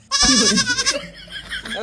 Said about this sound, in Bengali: ওখানে তো দুটোই ছাগল আছে।